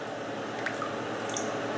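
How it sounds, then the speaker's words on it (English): Water draining out of a Bell + Howell Taclight LED lantern after a water test, a soft continuous trickle with small drips and squishy gurgles, close and fairly quiet. "a lot of water pours out of the inside here where the actual light folds into"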